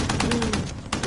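Rapid gunfire in the video game Call of Duty: Warzone, a quick run of about eight evenly spaced shots in just over a second, loud and close over a steady background hum.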